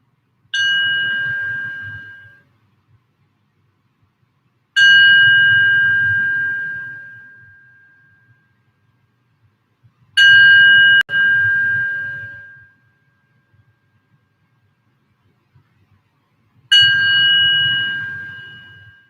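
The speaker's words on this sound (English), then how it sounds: "as I ring the bell to invite us in today" A meditation bell opens a yin yoga session, struck four times with long gaps between, each clear ring near and loud and fading slowly into silence.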